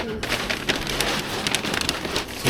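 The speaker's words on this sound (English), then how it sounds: "it looks like the rain will continue for a little while longer" Rain falls steadily on the streets of Stockholm during a wet, snowy day of food delivery, a dense close patter with brief louder spatters and a faint voice murmuring underneath.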